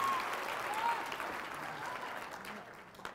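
Applause from an audience at a live magic show in Illinois after a card trick, steady and fairly dense clapping that slowly tapers over about three seconds, with a voice faintly mixed in.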